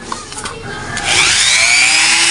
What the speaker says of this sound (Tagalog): Gamit tayo ng mini grinding.